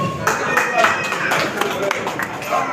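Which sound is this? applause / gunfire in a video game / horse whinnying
applause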